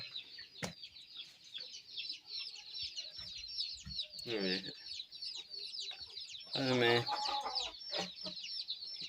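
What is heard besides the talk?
Aseel hens and rooster clucking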